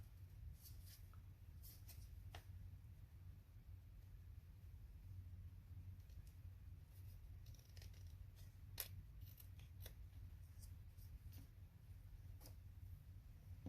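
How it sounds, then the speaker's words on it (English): Scissors snip a paper journal tag in a quiet room, giving a scattered series of faint, crisp cuts at irregular intervals over low background hiss. "See if we can trim that down a little."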